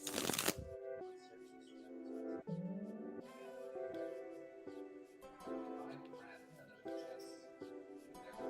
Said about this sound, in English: we're shuffling for you now